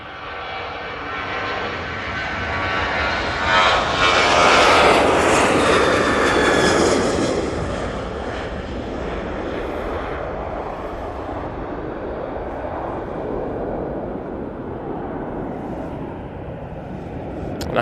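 Ryanair Boeing 737-800 jet engines at Manchester Airport, a loud broad roar that swells to a peak then holds as a steady, slowly fading rumble, with no talking.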